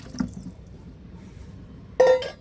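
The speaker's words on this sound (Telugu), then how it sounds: "ఒక 4-5 మగ్స్ వాటర్ కలిపేద్దాం." Water poured from a mug into a container while mixing a homemade garden fertilizer with milk, a brief splashing pour near the end after a quiet pause with a faint clink.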